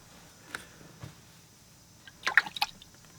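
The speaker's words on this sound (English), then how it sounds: "Rinse off the brush" A watercolor paintbrush swished and rinsed in a water jar, with a couple of faint taps early on, then a short burst of small wet splashes and drips near the end, quiet and close.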